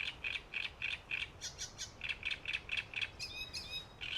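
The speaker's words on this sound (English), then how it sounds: "Please listen to this beautiful bird." A black duck calls in rapid, evenly spaced bursts of high chirping notes, several in a row with a brief pause midway, fairly close and clear over a quiet background with no talking.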